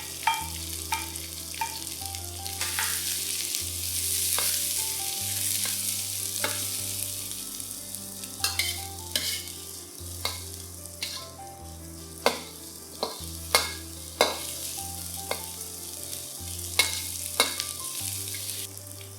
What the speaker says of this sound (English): Fry the slices of onions till they are fragrant.